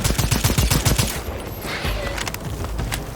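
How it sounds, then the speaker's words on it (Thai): Rapid bursts of automatic gunfire from a weapon in the co-op shooter video game Second Extinction, loud and close, with a dense rattling volley that thins into a lingering rumble and scattered shots. "หน้าที่ของเรามีอย่างเดียวฮะ เฮ้ย คือยิง แล้วก็ยิงพวกมัน"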